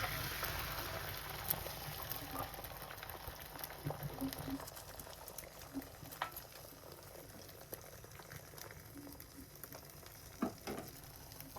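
An egg fries in hot oil in a pan for an omelette, a soft, continuous bubbling sizzle with scattered faint pops, fairly quiet and steady throughout.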